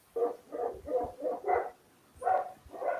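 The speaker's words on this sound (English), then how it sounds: "we're still hearing the dogs" Dogs bark in a run of repeated yaps and woofs, about seven bursts over a few seconds, moderately near, heard over a live online broadcast with no talk over them.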